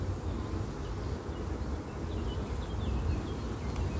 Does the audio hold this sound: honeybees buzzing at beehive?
yes